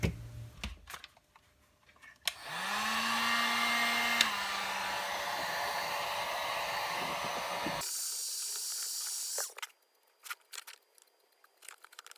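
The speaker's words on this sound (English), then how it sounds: "I'm going to use the heat gun and see if maybe I can straighten that out somewhat" A heat gun blows hot air onto a deformed case from the Indestro toolset to straighten it. It gives a loud, steady roaring hiss for about five seconds with a whine in the motor, framed by softer handling clicks and taps.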